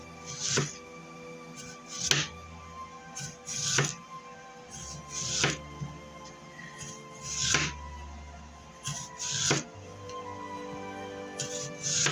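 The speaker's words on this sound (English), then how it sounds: "You want to cut thin slices." A knife chops thin slices for orange baked fish, landing as sharp board knocks roughly every one to two seconds, close and clear, with quiet handling between cuts.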